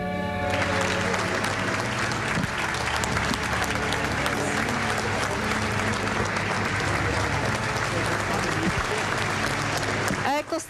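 Sustained applause from a large crowd at the funeral ceremony of Ennio Doris, continuous and loud over a low tonal background, ending abruptly.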